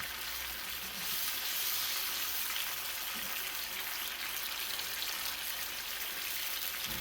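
Pheasant back mushrooms cook in a hot pan with a continuous, even hiss of frying that holds at a steady level throughout, close by and with no voices.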